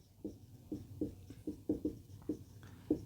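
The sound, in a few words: writing on a board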